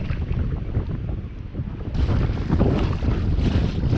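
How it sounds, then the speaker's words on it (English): Steady gusting wind buffets a fishing kayak on Lake Tenkiller during a kayak tournament, with rough broadband rushing and water slapping that grows louder and harsher halfway through. "here we are again, fighting the wind and the waves"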